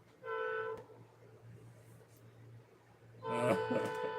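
A train horn sounds in two blasts, a short one near the start and a louder, longer one at the end, with a steady low rumble beneath and no talking.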